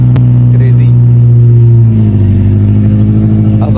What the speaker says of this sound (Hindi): चल स्टार्ट कर है इंजन